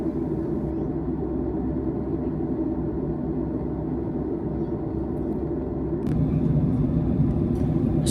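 Steady low cabin rumble fills a Virgin Australia Boeing 737 economy cabin at cruise, a constant drone close around the listener, with a slight rise in level and a few faint clicks toward the end.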